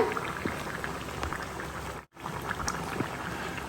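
Chicken curry bubbling and simmering in a covered pot, a steady soft boil with popping bubbles, brief gap midway, moderately faint and heard alone.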